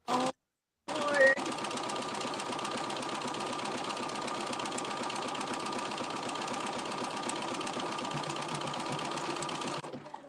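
A Juki sewing machine runs steadily for about nine seconds with a continuous whirring drone and faint rhythmic clatter, close and fairly loud, after a brief start and pause.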